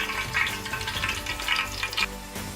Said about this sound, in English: you can see it is ready because you can see my wooden stick is bubbling